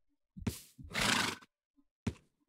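A horse in the Minecraft video game neighs in two bursts, a short whinny followed by a longer, louder drawn-out neigh, then a brief snort-like call after a pause, all close and clear with no talking.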